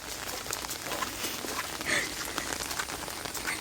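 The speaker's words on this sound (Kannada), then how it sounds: "ಮಳೆ ಬರ್ತುಂಟು ಜೋರು." Heavy rain pours down steadily, a dense wash of drops drumming on surfaces close by with no break, and no talking.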